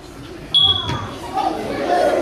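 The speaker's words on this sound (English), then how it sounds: "that sound, that's our smoke alarm" A single sharp, high electronic chirp from a household smoke alarm with a low battery rings out briefly amid a room where people are talking.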